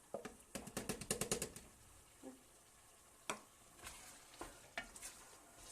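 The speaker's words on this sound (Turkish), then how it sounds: "sucuğumu da ilave edeyim bu arada." Sucuk and tomatoes frying in a pan, a quick run of rhythmic spatula scrapes and taps over a soft steady sizzle, then sparser single stirring strokes.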